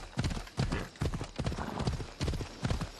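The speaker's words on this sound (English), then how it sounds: "I'm just gonna let the horse take me there because this is nice" Horse hooves clop along a road in the video game Assassin's Creed Odyssey, a loud, close, regular trotting rhythm of repeated hoof strikes, with faint speech underneath.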